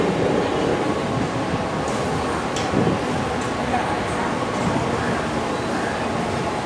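Mumbai Harbour Line suburban train at Govandi station, a loud continuous rumble of wheels and carriages with occasional clacks and squeals, close by and steady throughout.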